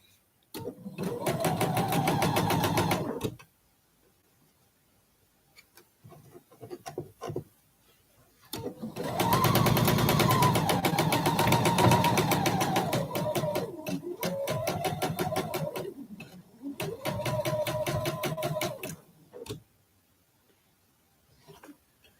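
A sewing machine stitches a quilt block in three bursts of rapid, steady whirring needle strokes, close and loud, separated by quiet pauses with faint handling noises.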